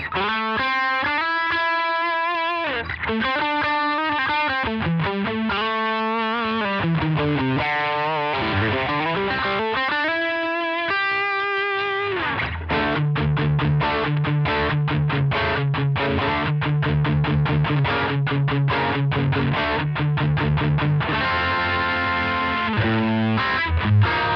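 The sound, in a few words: electric guitar through overdrive pedal on treble pickup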